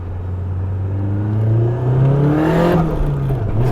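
A Nissan S15 Silvia's engine idles low, then revs up and pulls away, the pitch climbing through the gears with a loud, close exhaust note.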